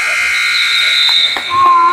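Buzzer sounding at the end of the third quarter of a Broncos versus Highland Park basketball game, a loud sustained electronic tone holding through the clip, with crowd noise and voices underneath.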